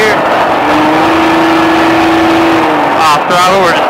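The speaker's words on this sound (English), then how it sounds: "Picking up the speed right here." A Baja off-road vehicle accelerates hard around the SpeedVegas course, its engine droning loud and steady with a rising, sustained tone close by, then shifting pitch near the end as the throttle changes.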